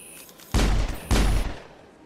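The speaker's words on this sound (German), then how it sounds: "Oh, ich darf hier schießen?" Two heavy bursts of automatic gunfire in the video game Mass Effect, each a dense roaring volley lasting about half a second, loud and close with a short tail fading after each.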